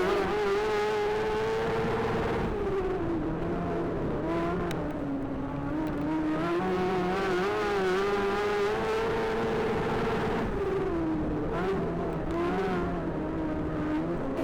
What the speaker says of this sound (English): Here comes Honeybell, always bouncing around the racetrack, pushing so hard in that 71M